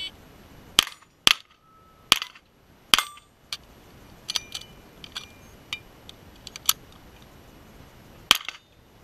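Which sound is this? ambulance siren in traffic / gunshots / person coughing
gunshots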